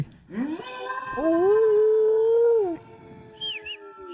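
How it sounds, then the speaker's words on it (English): A dog in the video game Kingdom Come: Deliverance gives one long, wavering howl close by, sliding up and then holding, followed by a few faint, higher yelps. "What is that barking?"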